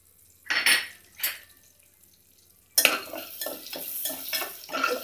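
Whole spices drop into a pan of frying green chillies and curry leaves, a couple of brief clatters followed by a sudden burst of loud sizzling that continues with stirring scrapes, close by.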